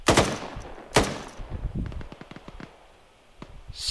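M249 light machine gun fire in ArmA 3, loud opening shots followed by a fast rattling burst of quieter rounds trailing off, with a distant crack near the end and no talk.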